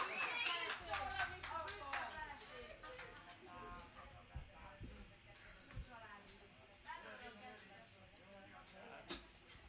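Audience applause at a live concert in Szabadkikötő, loud and dense at first, then thinning into scattered claps that fade over several seconds, with voices mixed in underneath.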